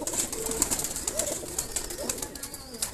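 A teddy pigeon sitting on eggs gives a couple of soft, low coos nearby over a steady background hiss and faint rustling.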